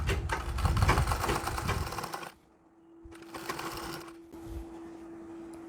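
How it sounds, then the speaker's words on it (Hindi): Electric sewing machine stitching a Bharatanatyam dhoti, running in fast rhythmic bursts close by, pausing briefly, then starting again with a steady motor hum underneath. "इस पर रख के सिलाई करनी है"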